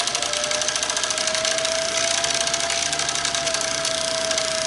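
A vintage Singer 15-91 sewing machine winds a bobbin with a steady, even motor whir and a faint hum that holds unchanged throughout.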